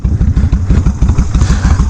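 Big V-twin motorcycle engine over 800cc pulling under load, a loud close low thumping pulse in a fast, even uneven-firing rhythm with steady volume throughout.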